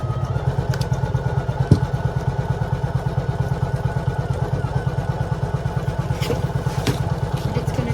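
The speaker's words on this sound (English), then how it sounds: "now it's stitching the last stitch." A computerized embroidery machine runs its final zigzag stitch around the edge of a Valentine's XOXO design with a side split bow, making a rapid, steady mechanical thumping and chattering close by without pause.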